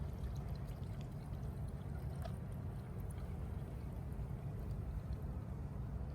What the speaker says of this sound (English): And I'm just going to hold this here and then pour into here slowly.